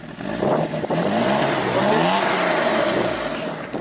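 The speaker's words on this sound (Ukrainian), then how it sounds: "Можеш чуть-чуть підгазанути?" A BMW E34 that had been puffing blue smoke revs steadily for several seconds up close, its engine note rising and holding loud and sustained throughout.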